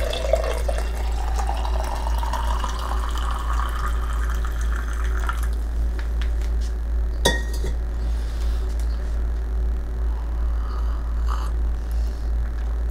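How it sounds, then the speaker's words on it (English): Coffee poured into a glass cup, a trickling stream whose pitch climbs as the cup fills over several seconds, then a single sharp glass clink and quieter handling, over a constant low hum with no talking. "It's just a matter of picking it up, pouring it into cup."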